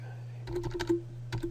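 Quick bursts of keystrokes on a computer keyboard, close and crisp, a rapid cluster of clicks followed by a short pause and a few more taps over a faint steady hum.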